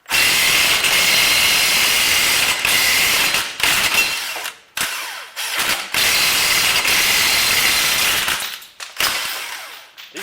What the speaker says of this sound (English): I find the easiest thing to use is this U-joint or the ball joint tool.